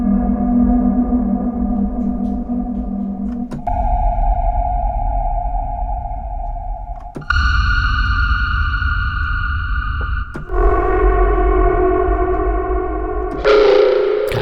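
Synthetic cinematic signal tones from the Keepforest Vikings library play as a sequence of sustained, buzzy, distorted electronic pulses. Each shifts to a new pitch every few seconds, with echo and reverb, loud and alone.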